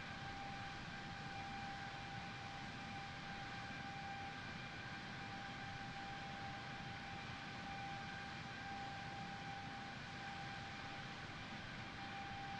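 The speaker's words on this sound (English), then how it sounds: "These engines are so super quiet." Steady, smooth drone of the engines on a simulated Airbus A330-900 in Flight Simulator 2020 while climbing, heard from the cabin as a quiet, even hum with faint tonal whine and no speech.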